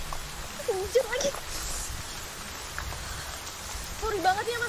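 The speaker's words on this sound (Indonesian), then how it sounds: "Hujan lagi." Steady rain falls outdoors as a soft, even patter that runs throughout, while a few short voiced sounds rise above it.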